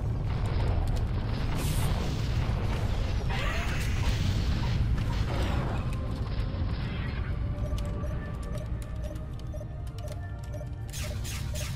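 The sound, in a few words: turret fire and explosions in a video game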